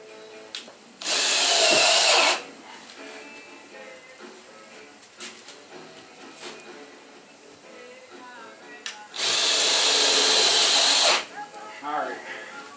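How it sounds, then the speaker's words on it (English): A power drill drives screws into a camper ceiling in two loud whirring bursts, one about a second long and a longer one near the end, with quieter handling noises and shuffling between them. "Then I'll put a couple more screws in"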